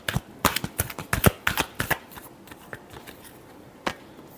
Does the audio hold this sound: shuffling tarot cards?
yes